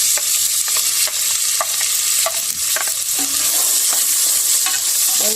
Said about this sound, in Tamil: வெங்காயத்தையும் வதக்கி